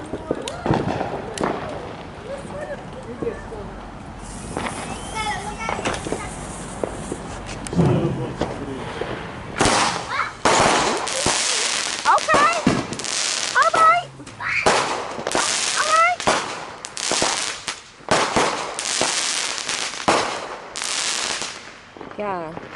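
Fourth of July fireworks in 2020 crackling and banging in dense, irregular bursts, loud and close, with a burst of sharp popping volleys mid-stretch, while people nearby talk and exclaim throughout.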